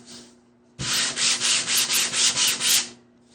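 Sanding RocLon drop cloth fabric with rhythmic rasping back-and-forth strokes, about eight loud, even passes close to the listener after a quiet start, with no voices.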